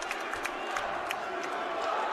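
Rose Hill Gym crowd at a Fordham vs UMass men's basketball game makes a steady, moderately distant roar of cheering and murmur, with faint scattered shouts and a low voice talking underneath.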